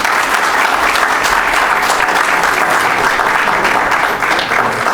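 Sustained, loud applause from a theatre audience after a National School of Drama performance, dense steady clapping filling the whole stretch without a break.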